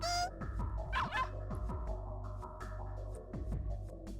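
A dog in the video game Ever 17 gives a few short barks and yips over steady, layered background music and game sound effects, the barking moderately loud and spaced irregularly.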